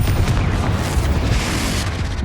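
Loud, sustained explosive boom from a Confringo blast spell in Hogwarts Legacy, rolling and rumbling heavily for about two seconds without pause.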